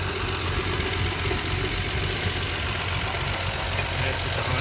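A stock flathead six engine in a 1940 Nash Lafayette converted to 12 volts, running steadily and loudly up close with a continuous dense rumble, no voices over it.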